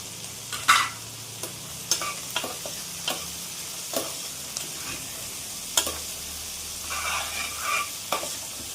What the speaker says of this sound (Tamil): இந்த வெங்காயம் கொஞ்சம் நல்லாவே வேகட்டும்.